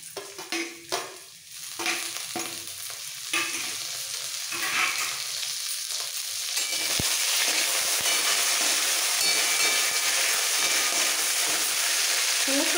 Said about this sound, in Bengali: সমস্ত ফোড়নগুলো একটু ভেজে নেব।